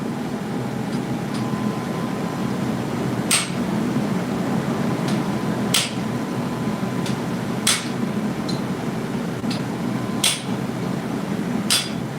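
Metal is hammered on an anvil at a forge while shaping a spoon: sharp, isolated ringing strikes spaced a second or two apart over a steady background hum.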